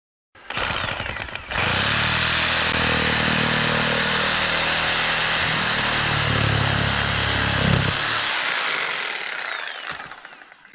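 A power saw cuts through a plastic backyard drainage basin in one continuous pass, starting with a short burst, then a loud sustained high whine and rasp that ends abruptly, followed by a brief spin-down, close up with no talk.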